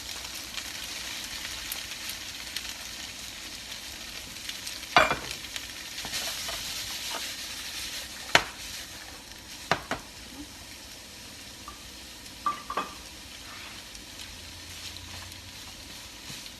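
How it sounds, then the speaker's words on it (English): Tofu and onions frying together in a hot pan on medium-high heat, a steady moderate sizzle with a few sharp clicks and scrapes from a utensil. "I'm gonna cook the tofu and the onions at the same time"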